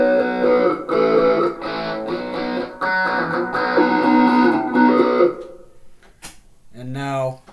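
A clean guitar with the Zoom G2.1u pedal switched off plays a short melodic phrase of plucked notes, fairly loud and close, followed by a brief click and a short spoken bit at the end.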